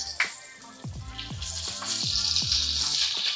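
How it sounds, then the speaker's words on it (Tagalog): Slices of pork belly sizzle and crackle in a hot frying pan, a steady bright hiss with irregular popping bursts of fat, close and fairly quiet. "Ito, niluluto ko lang to ng 2 to 3 minutes bawat side."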